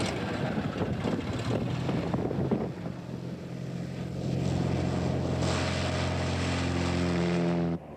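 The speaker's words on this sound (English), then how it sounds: "we decided to extend the experiment to flying an airplane" A propeller airplane in flight gives a steady droning engine hum with a broad rushing wash, shifting to a smoother tonal drone with rising harmonics partway through, loud and continuous before cutting off abruptly at the end.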